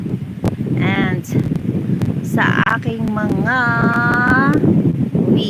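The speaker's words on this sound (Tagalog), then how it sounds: "Lakas ng hangin. Ganda ng hangin." Strong wind at the seaside rushes steadily as a broad, gusting roar under a voice talking throughout.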